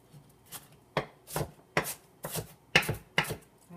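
Onion chopped into little bits with a knife on a board, about eight crisp chops in an uneven rhythm, each a short sharp crunch, close and clear with no talking.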